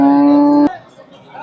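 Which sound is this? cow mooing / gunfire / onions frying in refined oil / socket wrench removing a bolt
cow mooing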